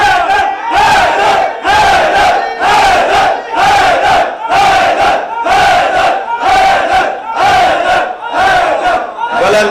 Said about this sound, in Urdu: بلندتر صلوات پڑھیں گے محمد و آل محمد.